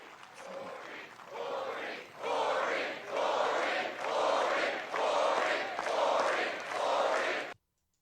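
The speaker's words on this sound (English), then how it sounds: "the crowd chanting Corey" A large crowd at a Trump rally in Butler, Pennsylvania chants a name together in about six loud, rhythmic two-beat bursts, swelling in volume and then stopping abruptly.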